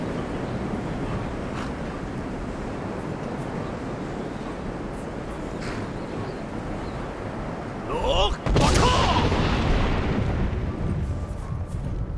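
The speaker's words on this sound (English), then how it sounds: "Seriously, this storm is ridiculous." Storm wind and crashing waves in Skyrim Special Edition, a steady loud roar of gusting air and surf that swells and grows harsher in the final seconds.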